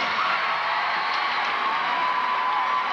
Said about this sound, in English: the cheering you heard was for Jamie Dantzscher, as predicted, a perfect 10 on the floor exercise